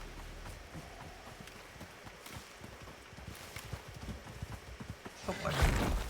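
Horse hooves in the Icarus survival video game, a steady clip-clop of galloping hoofbeats growing louder and closer, ending with a sharp, loud neigh or snort burst.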